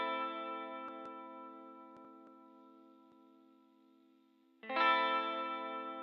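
Electric guitar through a Valeton GP200 with the high cut set to 2 kHz, a sustained chord decaying slowly with faint string touches, then a fresh strum rings out louder, dark and rolled-off.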